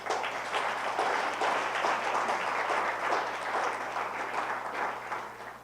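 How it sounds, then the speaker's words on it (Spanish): Church congregation applauding the Lord during a sermon: sustained, fairly loud clapping from many hands in a continuous wash, with a low steady hum beneath it. "Le damos un aplauso al Señor."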